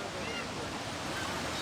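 Sea surf at Cefalù in Sicily rolls in as a steady broadband wash of waves, with wind buffeting the microphone and no talk.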